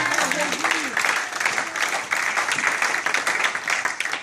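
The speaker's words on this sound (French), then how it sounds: "Acclamons un peu le roi de gloire." A hall audience at a youth conference in a hotel breaks into sustained applause, with dense clapping carrying on for several seconds after a brief voice at the start.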